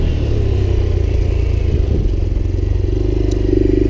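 A Honda Grom motorcycle held in a wheelie, its small engine droning loud and close with steady throttle and a slight rise near the end, with no talking.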